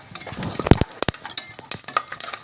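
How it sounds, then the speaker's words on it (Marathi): Peanuts roasting in hot oil for tempering while making quick cabbage rice, with close crackling sizzle, scattered sharp pops and stirring clatter from the pan, no voices. "आता शेंगदाणे जरासं लालसर भाजले की मग"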